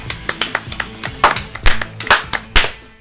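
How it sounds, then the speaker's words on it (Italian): A few people clap in uneven, close bursts of applause for finishing a video game, loud sharp claps lasting a few seconds. "Abbiamo finito, un applauso a questo gioco."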